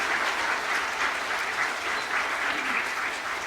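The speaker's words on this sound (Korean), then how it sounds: "자, 박수해 주시고 들어가시고 앉으시기 바랍니다." A church congregation applauds during a Christmas Day service, a dense, steady round of clapping from many hands that fills the room evenly and continues without a pause.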